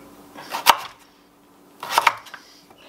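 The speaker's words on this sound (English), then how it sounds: "get the sweet potatoes chopped into chips" Two short bursts of knife chopping as washed, skin-on sweet potatoes are cut into fry-sized chips on a board, each burst a quick cluster of crisp close strokes separated by a quiet pause.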